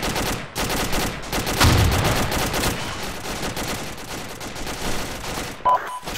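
Incoming gunfire in a combat video game: a dense burst of rapid shots and fusillade, loud and close, peaking early then rattling on steadily with distant echoes, no voices.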